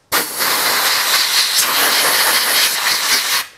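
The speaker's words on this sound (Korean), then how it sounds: "콤프레셔에 에어건을 연결한 다음에" An air gun fed by a compressor blasts a steady, loud hiss of air for about three seconds while blowing dust out of a compressor filter, starting and stopping abruptly.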